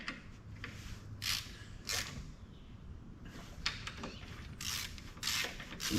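Bolts on a Honda CRF250R engine cover are tightened during a water pump repair, producing a series of short, close ratcheting and metallic clicking bursts separated by brief quieter gaps.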